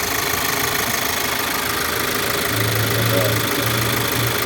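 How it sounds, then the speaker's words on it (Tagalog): An engine with a worn timing chain idles with a loud, continuous rattling knock heard up close, a dense mechanical clatter over a low steady hum, with a voice talking faintly over it. "so napakalakas ang lagotak dito"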